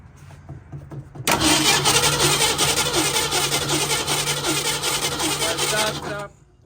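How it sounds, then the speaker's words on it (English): A 1965 Ford Mustang engine under restoration cranks, then fires and runs loudly and steadily for about five seconds before cutting off, with some faint talk during the quiet stretch before it starts. "All right, go ahead and turn the engine over."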